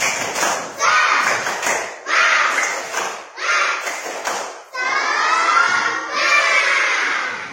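Classroom of schoolchildren doing a rhythmic clapping chant, in repeated bursts of clapping and shouted voices about once a second, loud and close, swelling into a longer cheer toward the end.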